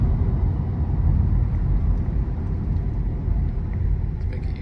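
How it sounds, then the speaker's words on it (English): A 2025 Honda Civic Touring Hybrid accelerates hard from about 35 mph with the pedal floored, giving a steady, loud low-pitched engine and road rumble from inside the cabin, with no talk. "we're cruising at 35, foot down. That's got some good pickup."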